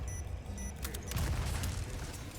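Explosions in the Resident Evil 4 video game as charging enemies set off explosives, a burst of deep booms and rumbling blasts with sharp crackling debris, loud and continuous.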